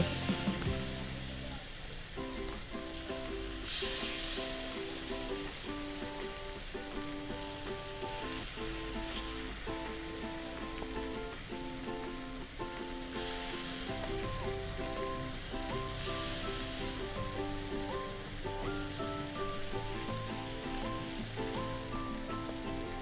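Chicken frying in a pan on a stove with the flame turned up, for a grilled chicken pizza topping: a steady, close sizzle that runs throughout under background hum.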